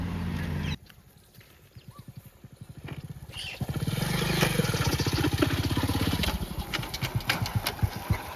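A motorcycle engine idles with a rapid, throbbing putter, quieting briefly before swelling louder and rumbling steadily up close.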